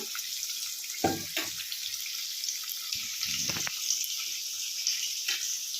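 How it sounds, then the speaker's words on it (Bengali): Hot water is poured into a bowl set aside for paneer, while cooking a vegetarian paneer rezala in a home kitchen. A steady hiss of running water carries throughout, with a couple of brief clatters of a vessel and no talk. "যে পাত্রে পনিরটা রাখবো সেই পাত্রে গরম জলটা দিয়ে দিলাম"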